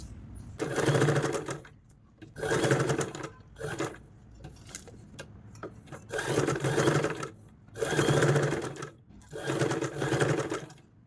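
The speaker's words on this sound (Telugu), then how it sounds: "ఇప్పుడు ఇది పై వైపున స్టిచ్ వేసుకోవాలి." A sewing machine stitches lace along the upper edge of a dress neckline, running in several steady bursts of a second or so each, separated by short pauses, loud and close with no talking.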